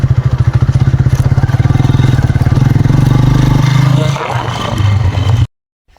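A Honda motorcycle rides along with a loud, close, pulsing engine drone and rushing wind, steady for several seconds before the sound shifts and cuts off abruptly.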